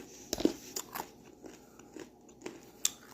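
Close, quiet crunching bites into a peppermint coconut granola snowball, a few sharp cracks followed by softer chewing crackles spread irregularly over a few seconds.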